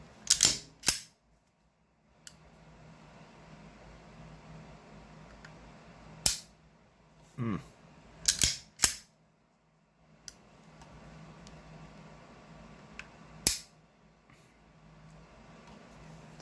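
A Browning Hi Power pistol's trigger is pulled to release the sear. Sharp, isolated metallic clicks, some in quick pairs, stand out against a quiet background at uneven intervals.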